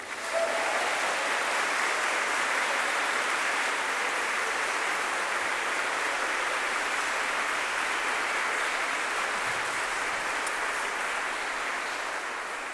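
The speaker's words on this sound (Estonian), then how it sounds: "nimetame ära ja teeme aplausi" A church congregation applauds the choir soloists at a service, a dense, sustained wash of clapping from many hands that holds steady throughout and tails off slightly at the end.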